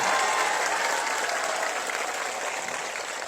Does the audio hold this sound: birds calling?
no